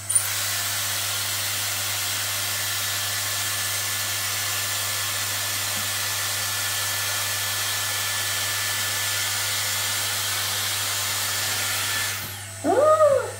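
A Dyson Airstrait hair dryer-straightener runs with a steady, loud airflow whine for about twelve seconds, then cuts off abruptly, leaving a brief rising tonal sound at the end.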